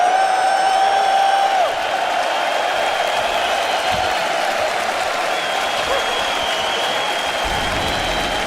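A packed esports arena crowd at The International 2025 Dota tournament cheers and applauds for team Heroic, a loud, sustained roar that swells at the start and then holds steady, with voices mixed in.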